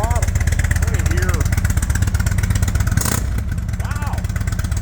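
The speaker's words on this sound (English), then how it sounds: "Give it a little throttle." Factory exhaust on an Indian motorcycle revs under throttle at close range, a steady rumbling idle rising in short blips, with people talking over it.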